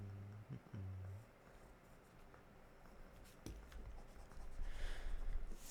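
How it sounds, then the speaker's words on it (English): Pencil sketching on paper, heard as soft scratchy strokes and rubbing under faint room tone, with a low hum at the start and a denser burst of scribbling near the end. "just had to do some quick sketching there"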